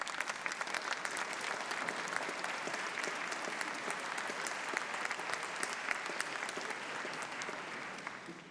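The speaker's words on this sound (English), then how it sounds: "give a round of applause to all those who have supported you" Sustained applause at a university graduation ceremony rolls through a large hall, dense crowd clapping at a fairly distant, even level that holds throughout.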